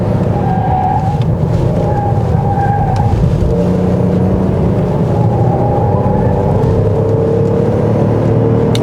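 A 2020 Hyundai Grandeur 3.3 Lambda V6 engine hums and revs steadily near 5000 rpm on a winding road in comfort mode, with road and tyre noise throughout and no one talking.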